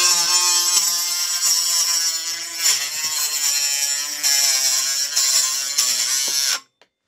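A Ryobi RCT18C cordless mini grinder cuts through a PVC tube with a loud, steady high-pitched whine that wavers slightly as the blade bites, running continuously for about six and a half seconds before abruptly stopping.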